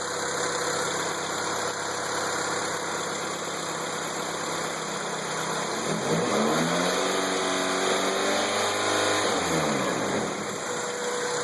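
An idling Honda Prelude Si engine, H23A1 with automatic transmission, hums steadily, then revs up, its pitch climbing and falling back over a few seconds before settling into idle again.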